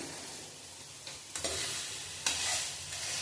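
Ingredients being sautéed and stirred in hot oil for a high-protein veg mutton dish, a steady close sizzle broken by two sharp scraping stirs of a spoon against the pan.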